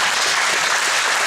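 A brief burst of steady, dense applause from the audience at a 2019 martial arts belt ceremony, clapping for the students.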